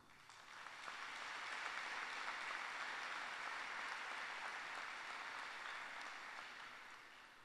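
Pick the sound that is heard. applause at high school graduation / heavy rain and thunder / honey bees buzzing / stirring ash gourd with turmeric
applause at high school graduation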